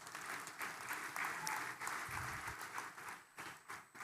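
A graduation ceremony audience at ESOFT Metro Campus, Kuliyapitiya branch, gives a steady round of applause. Many hands clap continuously at a moderate distance, thinning slightly toward the end.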